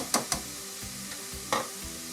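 Plain flour being stirred into melted butter in a pan, giving a few soft scraping strokes and light sizzle, with two quick clicks near the start and another scrape later, close and fairly quiet.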